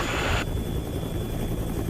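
A helicopter flies over an erupting volcano in the Philippines, its rotors churning out a loud, broad roar that is strongest at first, then settles into a steadier, duller drone with no voices.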